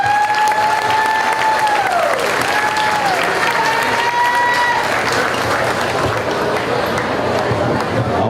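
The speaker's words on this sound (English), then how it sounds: "let's give them a big round of applause." Loud, sustained applause from a crowd at a county fair feeder calf show as calves exit the ring, with a couple of tonal whistle-like sweeps early on and steady clapping filling the full stretch.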